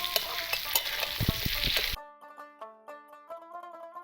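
Pan sizzling as potatoes fry and are stirred for about two seconds, then it cuts to a quiet stretch of soft melodic tones.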